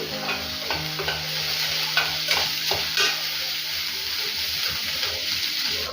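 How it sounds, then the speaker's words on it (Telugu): Onions and crushed garlic fry in a pan with a loud, close sizzle and hiss, broken by scraping stirring strokes and a few clinks, and nobody speaks over it. "ఉల్లిపాయలు చక్కగా ఫ్రై అయిపోయాయి కదా"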